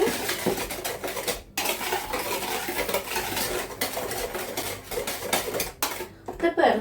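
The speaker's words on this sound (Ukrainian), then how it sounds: "Гарненько все забираю звідси. Все перемішую." A spoon scrapes and stirs flour and milk in a bowl for a honey roll batter, producing continuous close clinking and scraping with brief pauses.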